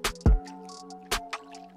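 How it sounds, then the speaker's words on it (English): Marinade being poured over short ribs in a dish, giving a few short wet splashes and drips in a quiet kitchen. "Pour the marinade in."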